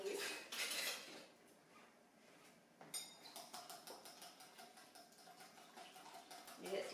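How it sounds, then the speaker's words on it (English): Salad dressing for an Olive Garden-style copycat recipe is whisked in a bowl, making quick, faint metallic clinks and taps in a steady rhythm after an earlier rattle, with soft voices in the background. "And then we're just going to whisk all that together."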